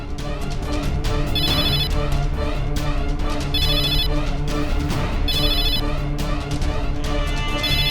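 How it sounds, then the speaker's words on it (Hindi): A phone ringtone chirps in short repeated bursts, about every two seconds, over a loud continuous music bed in the Hindi crime drama Savdhaan India, with no talking. "साहब बजी घंटी साहब"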